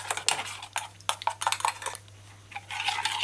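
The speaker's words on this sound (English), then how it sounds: "Stir in the liquid mixture properly." A spoon clinks and scrapes against a bowl while pancake batter is stirred, giving a run of irregular close clatters and taps over a steady low hum, with no talking.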